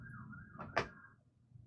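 A faint emergency vehicle siren outside: a thin, steady, slightly wavering tone heard from a distance for about a second, with a brief soft knock partway through.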